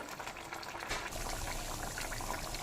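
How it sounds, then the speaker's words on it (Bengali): Parshe fish curry with mustard and poppy seed paste bubbles and sputters in a wok at a gentle, steady simmer, a soft continuous crackle close by with no voices. "ভালো করে মাছগুলো কড়াইয়ের মধ্যে দিয়ে দিলাম এবার ফুটতে থাকবে"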